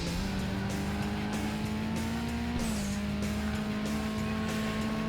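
A pack of cars races through traffic in Burnout 2 on PlayStation 2, a steady loud engine drone with a rising pitch, tire squeals and a brief shift midway, with no talking.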